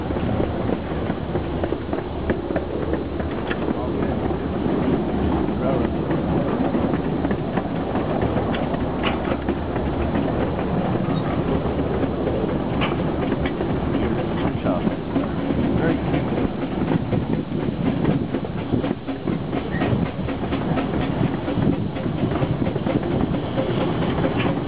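A small engine pulling five cars on the Billy Jones narrow-gauge railroad, heard from near the cab as a steady, loud rumble and rolling clatter that continues without a break, with faint voices mixed in.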